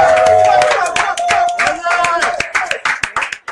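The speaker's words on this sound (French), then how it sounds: "est-ce qu'on peut applaudir pour..." Studio audience applauding a theatre company during a live afternoon radio broadcast, a dense burst of clapping that starts loud and gradually thins into scattered claps over a few seconds.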